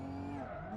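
A car in the BeamNG.drive driving game brakes too hard on a downhill rally stage and its tires skid with a steady squealing whine over the engine drone, close and continuous.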